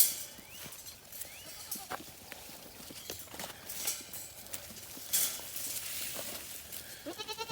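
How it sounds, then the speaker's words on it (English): Baby goats bleat in short, scattered calls at moderate distance against a quiet outdoor background, with a quick run of rapid repeated bleats near the end. "Hey, baby goats."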